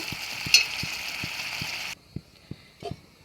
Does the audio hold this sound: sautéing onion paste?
yes